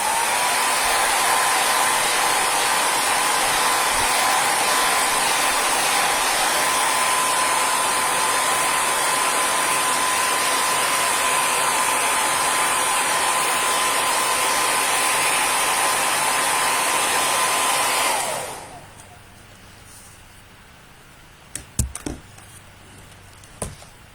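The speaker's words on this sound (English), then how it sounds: "I am going to pause again for the hair dryer." A hair dryer blows with a loud, steady whooshing roar and fixed motor whine for about eighteen seconds, then winds down and shuts off, leaving near silence with a few faint clicks.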